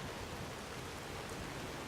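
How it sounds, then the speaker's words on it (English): Heavy rain in Skyrim pours as a dense, steady hiss of drops, loud and even from start to finish, with no voices over it. "Oh, and it's heavy, too."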